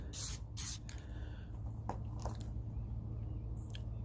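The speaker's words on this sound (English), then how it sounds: "We are outside where I won't get in trouble with spraying paint in the house." Several short hissing bursts of green spray paint from an aerosol can outdoors, a couple in quick succession, then sparser spurts with faint clicks and outdoor background.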